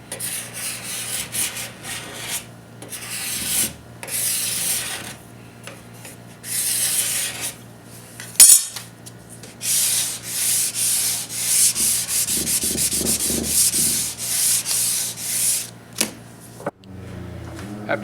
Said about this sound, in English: all of the rails need a good scraping and sanding